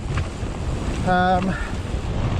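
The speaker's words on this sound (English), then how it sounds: "Oh dear, this wind." Strong wind roars steadily across the microphone on a mountain bike trail in South Wales, buffeting throughout with a brief tonal whistle partway through.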